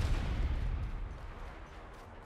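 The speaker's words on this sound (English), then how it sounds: "That was two shots" A gunshot in the Apex Legends video game, one heavy booming report up close whose deep rumble fades away over about two seconds.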